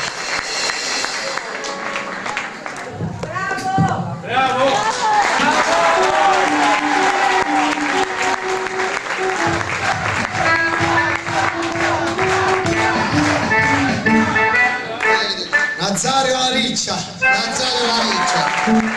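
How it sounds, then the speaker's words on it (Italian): Crowd applause at an Italian gathering, loud sustained clapping mixed with cheering and a busy musical or vocal backdrop, with a brief dip near the start before the applause swells again and carries on. "Un applauso a Carmine Pio Poligno."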